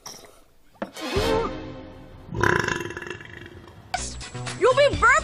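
An animated female character lets out several long, loud, drawn-out burps, close and prominent, with brief cartoon voice sounds between them.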